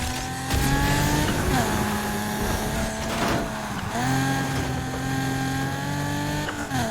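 Car drifting on drift tires in Need for Speed Heat, engine tones rising and falling through gear shifts with tire squeal, steady and fairly loud, faint talk beneath.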